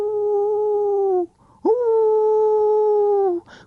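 A human voice imitates a coyote howling: two long, sustained, steady-pitched howls close by and loud, separated by a short gap, with a brief breathy sound at the end.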